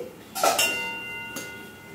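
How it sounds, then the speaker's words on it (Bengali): A metal lid is lifted off a kadai of simmering onion and capsicum: a close, bright clink with a short ringing tone, followed by a lighter second tap. "এবার কড়াইয়ের ঢাকাটা তুলে দিচ্ছি।"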